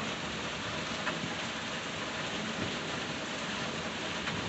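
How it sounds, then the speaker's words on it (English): Steady heavy rain during a thunderstorm, a dense, even hiss of drops pattering on surfaces close by, continuous and loud throughout with no voices. "it rained good enough that it wet my side of my shorts when I stand under the door."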